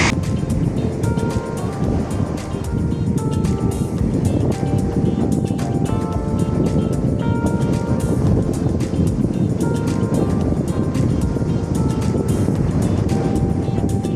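A vehicle driving across a field toward a lake in rural Russia, a steady loud engine drone with rough rumbling and rattling from the uneven ground throughout.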